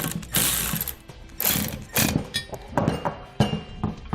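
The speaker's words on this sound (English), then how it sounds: "we'll use a 1/2 inch socket and tighten up the nut just enough so it's tight" A ratchet spins a 1/2 inch socket to snug down a nut on a trailer-hitch air helper spring saddle bracket, giving bursts of close, clicking mechanical ratcheting in uneven strokes with brief pauses between.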